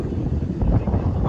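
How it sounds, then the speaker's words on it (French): Steady wind rushing past a sailboat under way solo at sea, about 16 knots of true wind at around 7 knots of boat speed, a continuous loud roar with buffeting gusts. "il y a 16 nœuds de vent réel"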